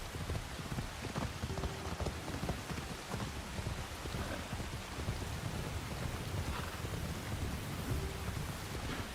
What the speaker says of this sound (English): That rain is real.